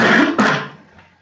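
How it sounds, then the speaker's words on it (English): A loud, close cough comes in two harsh bursts in quick succession, then trails off into quiet. "That's a loud cough."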